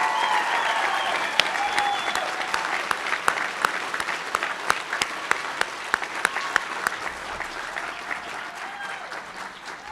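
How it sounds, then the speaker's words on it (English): Graduation audience giving a big round of applause, dense sustained clapping from many hands with a few sharper nearby claps standing out, continuing throughout and tapering slightly at the end. "How about a big round of applause for everybody?"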